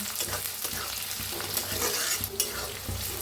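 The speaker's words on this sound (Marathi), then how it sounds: "मटर बी छान असं भाजून घेऊया तेलात तळून" Green peas fry in hot oil with onion, chili, tomato and peanuts for poha, giving a dense continuous sizzle up close and frequent scraping strokes of a stirring spoon.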